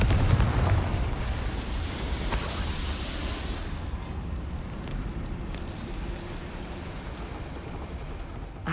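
A fire spell explodes in the video game Hogwarts Legacy: a loud blast opens, a second burst comes near three seconds, then a long crackling, rumbling roar fades slowly. No voices are heard.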